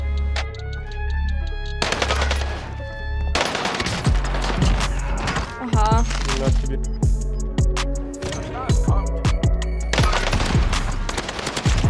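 Rapid automatic gunfire crackles in a first-person shooter video game, loud, close repeated bursts and single shots across the scene, with a voice talking in between and game effects in the background.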